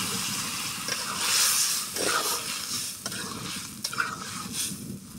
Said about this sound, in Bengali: তো ঝোল দেওয়া হয়ে গেছে